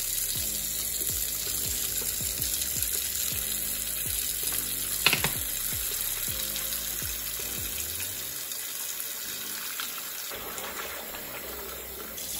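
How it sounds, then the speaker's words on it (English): Hot water runs steadily from a tap into a sink being filled for washing dishes with soap and a little bleach, a continuous close splashing hiss with a brief louder burst midway and no talk. "I filled up the sink with hot water, a lot of dish soap,"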